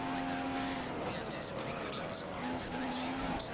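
A Formula 1 race car from the F1 2015 video game drives around the Montreal circuit, its engine a constant droning whine with shifting pitch and faint tyre noise, heard under someone talking.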